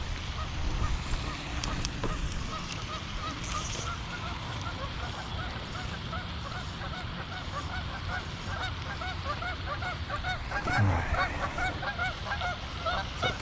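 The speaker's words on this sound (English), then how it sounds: "It's like the geese want to play." Geese honk repeatedly by a pond during a fly fishing outing, a busy overlapping chorus of calls that continues throughout at moderate distance.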